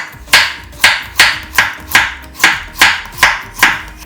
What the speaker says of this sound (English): Slice the carrot thinly.